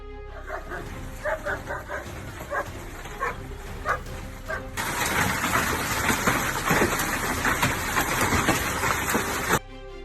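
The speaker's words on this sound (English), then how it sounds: "heavy hailstones clatter non-stop against the ground" Heavy hailstones from a Queensland hailstorm clatter on the ground in a dense, loud, continuous roar that starts abruptly partway through, after a dog barks and yips and voices talk over lighter background noise.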